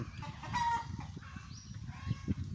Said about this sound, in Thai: ไก่ก็กระตากันใหญ่เลยนะท่านผู้ชม